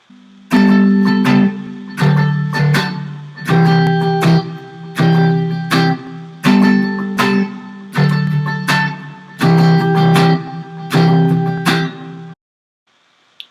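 An acoustic guitar strums the chorus chords in rhythmic bursts, each strum ringing briefly before the next, then stops abruptly near the end.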